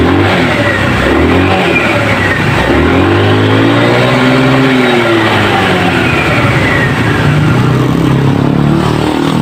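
A motorcycle engine is revved in one sustained, loud swell, climbing and falling back close up, during a test of a newly installed RPM gauge.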